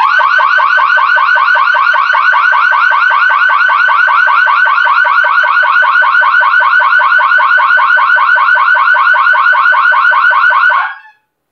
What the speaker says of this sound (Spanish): se terminó de activar la alarma